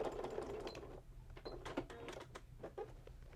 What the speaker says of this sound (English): you just need to sew over your existing top stitch to secure the intersection